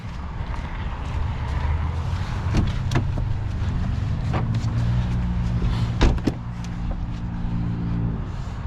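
A 2022 BMW X5 is unlocked to open the rear, with a low idle rumble, several sharp latch clicks and thumps, and a short whirring motor sweep partway through.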